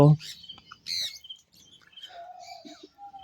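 Small parrots, lovebirds and sun conures, chirp and tweet in short, scattered high calls, fairly close, with a brief voice-like sound at the start and quiet gaps between calls.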